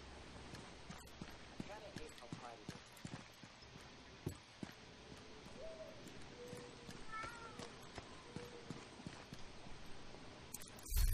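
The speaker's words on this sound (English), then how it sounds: "Why for are you meowing?" A cat meows amid busy video game sounds from The Division 2, with repeated hoof-like clip-clop steps and scattered clanks; the short meow calls are modest in level under the steady game mix.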